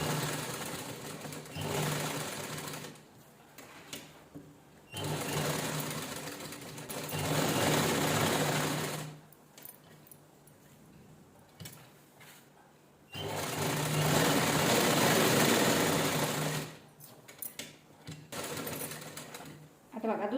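A sewing machine stitches a blouse lining in loud bursts of rapid mechanical whirring that start and stop several times, with quieter pauses between runs.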